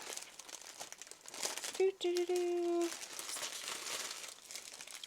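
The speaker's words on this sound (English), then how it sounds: "Lots of crinkling like when we were opening Christmas gifts, right?" Plastic packaging from a diamond painting kit crinkles as it is bent, a close, crackly rustle that comes in bursts while a voice talks over and between them.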